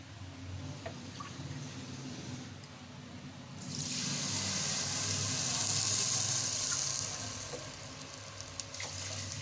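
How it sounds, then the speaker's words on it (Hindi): Water poured into a pan of sugar on a lit stove, a rushing, hissing pour that swells midway and runs for several seconds over faint background kitchen noise. "अब हम इसमें पानी डालेंगे।"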